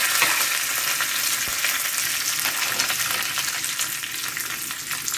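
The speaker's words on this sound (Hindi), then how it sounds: "पैन हमने गर्म कर लिया है और इसमें हमने ये आधा चम्मच तेल डाला और ये करी पत्ते डाल देंगे" Curry leaves and green chili hit half a spoon of hot oil in a pan for tadka, producing a steady, close hissing sizzle with faint crackling that holds throughout.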